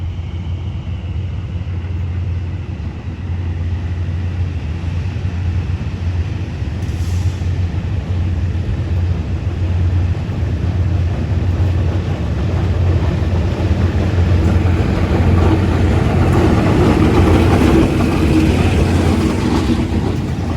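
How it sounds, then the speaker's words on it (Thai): Diesel train GEK 4031 pulling out of Nakhon Pathom station, a steady loud low engine drone that builds as it accelerates, with rolling rail rumble and faint wheel clatter throughout, no voices. "เร่งเครื่องออกจากสถานีแล้วนะครับ"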